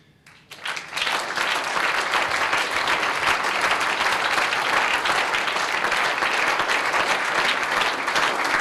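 Loud, dense applause from a large audience at an SPD state party convention in Brandenburg, starting after a brief quiet moment and rising almost at once into steady, sustained clapping that fills the hall.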